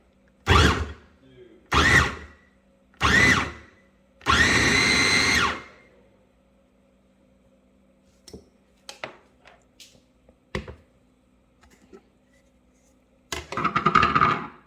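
Syvio electric food chopper whirring as it chops food in loud, close motor bursts: four short pulses in quick succession, then scattered clicks and handling noises, then a fifth burst at the end.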